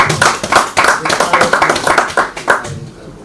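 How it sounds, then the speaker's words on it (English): Audience at a live-streamed event applauding with loud, close, brisk clapping that fades out near the end. "A round of applause once again."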